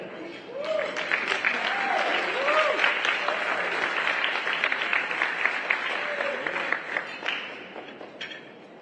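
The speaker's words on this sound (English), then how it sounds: "And another round of applause for the Black woman" Audience applause at a civil rights roundtable during a festival, sustained crowd clapping with cheers and whoops rising over it, loud and full for several seconds before thinning.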